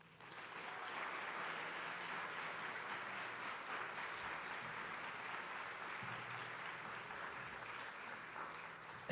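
A convention hall audience applauds award winners at a national communication association awards presentation, sustained even clapping from a large crowd, steady and moderately distant throughout.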